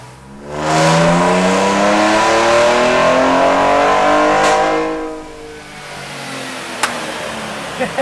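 Car engine on a dynamometer during a power run, revving hard and rising steadily in pitch for several seconds, loud and close, then dropping off to a lower idle-like hum with a couple of clicks at the end.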